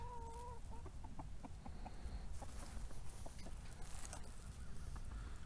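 Chickens cluck and chatter steadily at feeding time, many short calls overlapping at a faint, even level with no voices.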